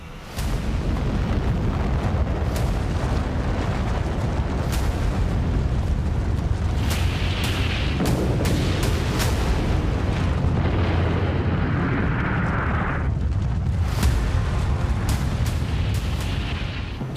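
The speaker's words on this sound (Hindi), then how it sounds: "ये बम है परमाणु बम।" A nuclear bomb explosion: a continuous, heavy, roaring rumble with repeated booming bursts layered through it, loud and sustained for well over fifteen seconds.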